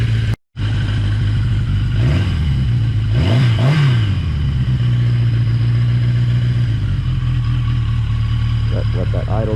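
A Yamaha XJ650 motorcycle engine runs at a fast idle while warming up, a steady close drone with a couple of brief revs early on.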